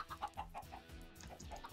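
Chickens in a Minecraft modpack (Sky Odyssey) cluck in quick, faint repeated bursts.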